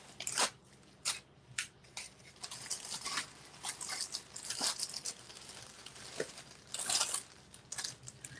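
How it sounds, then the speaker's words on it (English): Crackers crushed inside a Ziploc bag, giving irregular bursts of crinkly crunching and plastic rustle, fairly close, with brief pauses between squeezes. "while she's crunching up those crackers"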